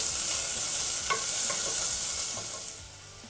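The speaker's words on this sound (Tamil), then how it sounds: "வெங்காயம் வந்து லைட்டாக வதங்கினா போதும்." Sliced onions sautéing in a pan for beetroot pulao, a steady close sizzle with a few light stirring scrapes, fading slightly toward the end, no talk.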